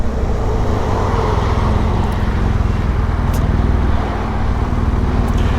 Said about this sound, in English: I really apologize for the traffic.